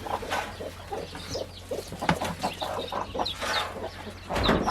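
Several chickens cluck close by in quick, irregular bursts of short calls.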